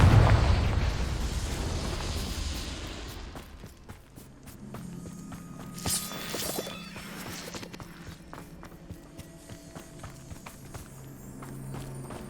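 A Confringo fire spell explodes in the Hogwarts Legacy video game: a loud, close burst at the start that slowly fades, followed by quieter footsteps and small pops.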